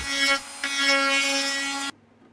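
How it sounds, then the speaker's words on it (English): A Dremel rotary tool enlarges the prop hub opening in the cowl of a Legend Hobby 156-inch L-19 Bird Dog 120cc model plane. Its close, steady high-pitched whine dips briefly early on, then cuts off abruptly. "that's why man made the Dremel tool"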